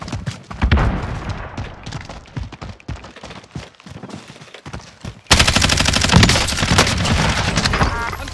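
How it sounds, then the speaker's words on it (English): Automatic gunfire in a Warzone battle royale match, dense bursts of shots through the first half, then a loud, sustained stretch of rapid fire and combat noise, with bits of game voice chatter. "I'm taking fire!"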